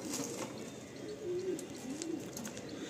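Madrasi pigeons in a pair coo softly nearby, low murmuring calls rising and falling over a steady background hiss, with faint clicks and no speech.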